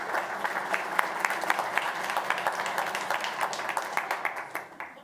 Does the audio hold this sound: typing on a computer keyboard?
no